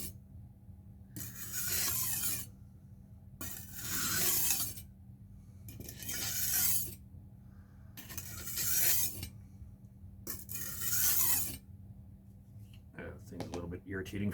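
Kitchen knife sharpened by hand, flipped between passes with light pressure: five long rasping strokes, each about a second and a half, separated by pauses, close and steady under a low hum, with a brief scrape at the end.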